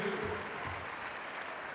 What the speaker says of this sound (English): as Jess Shepard gets a round of applause